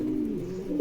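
A pigeon at a pigeon farm in Bogura gives a steady low cooing hum, close and continuous, with no other sounds over it.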